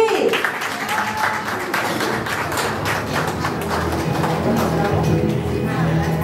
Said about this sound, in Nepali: सर र उहाँको लागि ताली